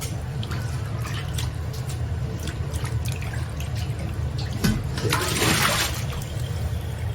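Soaked wood ear fungus rinsed in water in a kitchen sink, a continuous splashing, running-water wash with small sloshes and a surge near the end.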